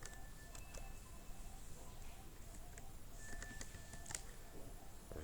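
Quiet, quick keystrokes patter on a computer keyboard while HTML is written, a soft, irregular run of clicks that continues for about five seconds over faint room noise.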